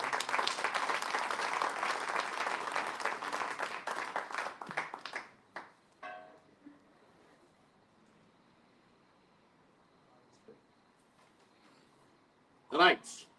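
Audience applause at a formal ceremony, dense steady clapping for about five seconds that fades away, followed by near silence and a brief loud burst near the end.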